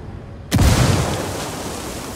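A single loud frag grenade blast in Ghost Recon Wildlands, going off at a cocaine stockpile, a sudden heavy boom after near silence that rolls off into a long noisy rumble.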